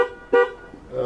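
A car's horn gives one short, loud toot, set off by an oversensitive alarm, and is followed by a quieter horn-like tone. It sounds close, with no talking.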